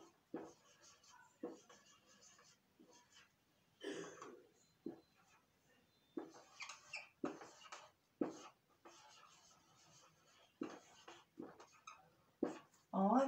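Handwriting a sentence in a Portuguese first-grade review lesson, faint scratchy pen or marker strokes in short bursts with pauses, mixed with soft breaths and a throat clearing.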